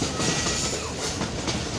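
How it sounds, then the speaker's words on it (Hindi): A passenger train runs on rails through misty countryside, a continuous loud rumbling roar with faint rhythmic wheel clatter, close by and without any voices. "क्लियर करते हुए ट्रेन जा रही है।"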